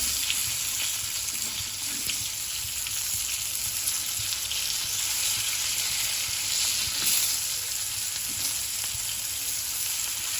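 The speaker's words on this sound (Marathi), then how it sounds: "परतून घेत थोडं. बघा मच्छी चिकटत पण नाही आहे." Marinated bangda mackerel fries in a pan, giving off a continuous bright sizzle that stays steady and close throughout with faint scraping from the fish being turned.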